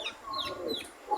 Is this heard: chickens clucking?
yes